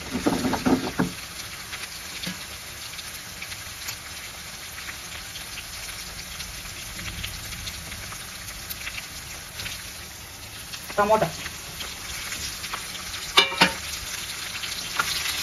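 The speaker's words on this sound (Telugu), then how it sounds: "రెండు కరివేపాకు రెబ్బలు ఉన్నాయి, వేస్తాను." Curry leaves fry in a pan with a quiet, continuous sizzle. A few sharper crackles and stirring clatters break through near the end.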